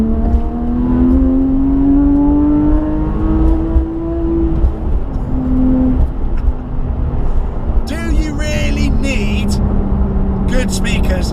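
A Porsche 997.2 GT3 RS with a 3.8-litre flat-six mounted behind the cabin, its engine droning and rising through revs from inside the car, heard under steady talking.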